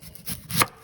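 A knife slices through an onion on a board with two short rasping strokes, the second louder and ending in a sharp cut, close up and brief.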